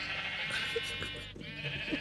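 Minecraft sheep give a couple of bleats within a steady game soundscape, fairly clear and unaccompanied by speech.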